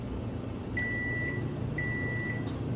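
A microwave oven hums steadily while its timer gives two sustained, evenly spaced electronic beeps, clear and close over the running motor.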